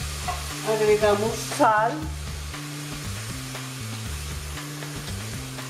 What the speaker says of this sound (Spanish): Revolvemos muy bien.